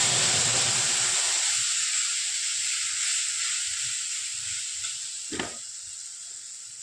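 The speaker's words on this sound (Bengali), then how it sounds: "এখন যে মশলাটা আমি গুলে রেখেছিলাম ওটাকে দিয়ে দেব" Spice paste tipped into hot oil over fried tempering spices bursts into a loud broad sizzle, easing slowly to a steady hiss with a brief clatter near the end.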